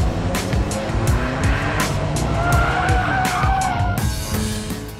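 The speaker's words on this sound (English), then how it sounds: "One thing that really gives the vehicle its racing spirit is the roar of the engine." Alfa Romeo 4C on the move, its engine roaring loud and close with rising and falling revs through gear changes, joined by brief tyre squeal, no talk over it.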